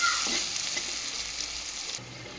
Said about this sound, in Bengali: পেঁয়াজ কুচি আর কাঁচা লঙ্কা চিরাটা একসাথে সব ভেজে নেবো